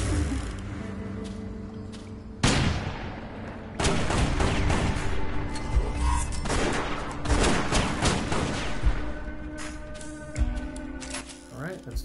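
Shotgun blasts in the video game West of Dead, a dense run of loud bursts and clattering impacts over game music, with a voice speaking at moments.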